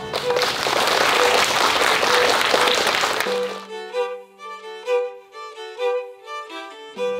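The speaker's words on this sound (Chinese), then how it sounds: "让我们以最热烈的掌声欢迎总统莅临会场。" Dense crowd applause greets President Tsai Ing-wen arriving at a ceremony at a military camp, loud and steady for about three seconds before cutting off as instrumental band music with sustained tones takes over, with no talking.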